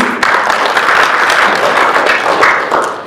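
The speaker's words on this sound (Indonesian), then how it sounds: "Kita boleh kasih tepuk tangan sekali lagi." Audience applause at the formal opening of a technical training session for regional council leaders and members in Belu Regency, a steady, loud wash of many hands clapping that runs throughout without letup.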